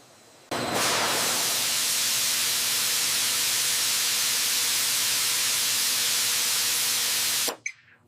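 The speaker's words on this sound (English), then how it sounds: "Take a look at the steam release up there." Steam venting from machinery in a large cooking oil factory: a sudden, loud, steady broadband hiss starts abruptly, holds constant for about seven seconds, then cuts off sharply.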